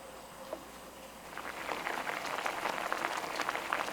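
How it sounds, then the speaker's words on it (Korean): Orange juice, unsalted butter and salt simmering in a pan, a soft bubbling crackle that builds from quiet to a steady, faint fizz. "팬에 부어서 오렌지 주스와 무염 버터, 소금을 넣고 졸인다."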